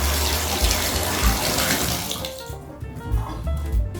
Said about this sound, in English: Air bubbles out of the pipes, and the water is hot.